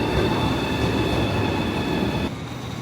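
A CRH Hexie high-speed train at Suifenhe station rolls past nearby with a continuous heavy rumble and a thin tonal whine on top, easing slightly quieter near the end.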